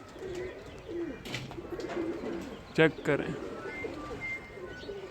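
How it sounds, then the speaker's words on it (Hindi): Male pigeons coo softly at a rooftop loft in the evening, low murmuring calls spread through the scene with a couple of louder flutters or bursts midway, while someone talks over them. "ये सारे नर कबूतर हैं जो कि बाहर हैं"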